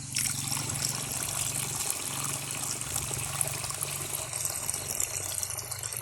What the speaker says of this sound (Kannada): ಜೊತೆಗೆ ನೀರು ಮಿಕ್ಸ್ ಮಾಡ್ತಾಯಿದ್ದೀವಿ.